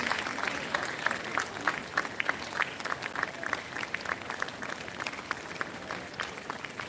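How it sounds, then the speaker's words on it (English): An audience at a university innovation summit opening ceremony claps steadily as a guest walks to her seat, a fairly quiet but continuous patter of many hands with distinct claps standing out. "you keep clapping till she gets to her seat"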